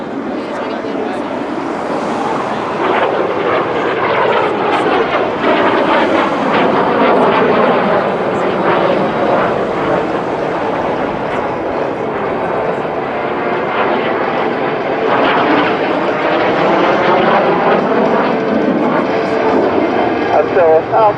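A Breitling Jet Team jet performs at the Belgian Air Force Days 2018 airshow, a loud continuous engine roar with shifting pitch sweeps as it passes, while an announcer talks over it.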